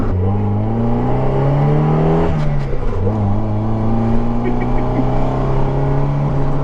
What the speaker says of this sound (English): you can hear that nice raspy little 4-cylinder engine note quite well